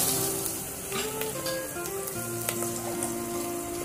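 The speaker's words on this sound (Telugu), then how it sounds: "సొరకాయ ముక్కలు మంచిగా ఆయిల్లో డిప్ అయ్యేలాగా మంచిగా కలుపుకోవాలి" Bottle gourd pieces with turmeric frying in oil: a dense, steady sizzle and crackle runs throughout, with soft stirring clatter and a few faint tonal clinks. No voices.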